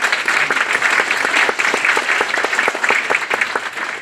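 Sustained applause from an audience at a storm emergency community meeting in Kalorama, dense steady clapping filling the room with no talk over it.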